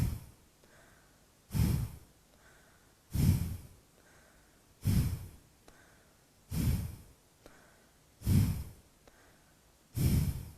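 Six forceful nasal exhales of Kapalabhati breathing come at a steady rhythm, roughly every second and a half. Each is a short, close, breathy blast through the nose, with near silence between them.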